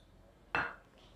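A spoon clinks once, sharp and close, against a container while sugar is stirred into watermelon juice. A quiet room surrounds it, with no talking.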